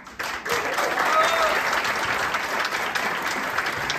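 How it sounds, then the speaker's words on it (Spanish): An audience breaks into loud applause at a live music show, a thick continuous wall of clapping rising quickly after a brief quiet start and holding steady to the end. "queremos que nos den un fuerte aplauso a Daniel Bamondes."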